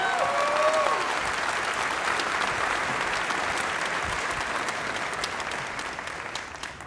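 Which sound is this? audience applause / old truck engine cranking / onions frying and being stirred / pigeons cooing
audience applause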